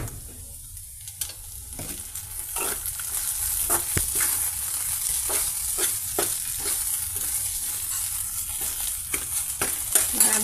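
Okra (bhindi) fry with curry leaves, tempering spices and thin-sliced small onions frying in oil, a steady close sizzle broken by repeated scraping stirs of the pan, with no talking.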